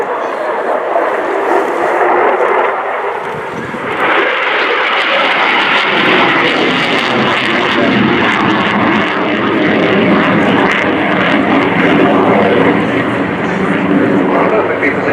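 A Belgian Air Component F-16 Fighting Falcon flies its display at RIAT 2015, a loud jet roar that swells and holds close overhead, with a commentator talking over it.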